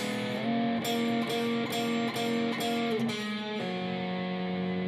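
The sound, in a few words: Guitar turnaround part 3 played slow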